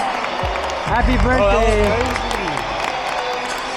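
Stadium crowd at a baseball game clapping and cheering, a broad swelling wash of applause with a brief cheer, while people nearby talk over it.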